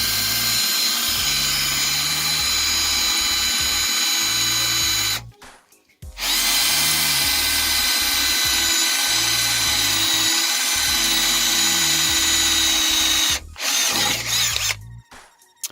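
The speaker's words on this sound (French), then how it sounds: "j'ai percé un trou de 4, donc sur un bout de métal d'à peu près 3-4 mm d'épaisseur, et franchement ça perce sans problème" A Bosch GSR 12V-15 cordless drill bores a 4 mm hole through metal about 3-4 mm thick, whining loudly and steadily at close range, with two brief pauses between long runs.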